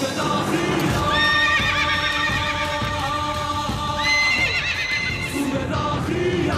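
A horse neighs loudly in long shrill whinnies over the rhythmic clip-clop of galloping hooves, a dense close film-scene mix with no talk.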